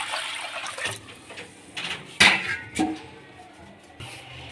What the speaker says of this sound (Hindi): एक कढ़ाई लेंगे, कढ़ाई में हम पानी डालेंगे।